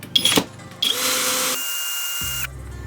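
A Skil XP DD1E3080 cordless drill runs at second speed: it gives a short burst, then spins up with a steady high whine that holds for over a second before changing pitch and winding down, heard up close.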